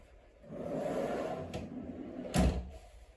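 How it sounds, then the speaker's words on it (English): Under-bed storage drawers sliding out of a flush-fronted bed frame in a bedroom, a soft rumbling slide ending in a sharp knock as a drawer stops, with no talk. "The drawers come out"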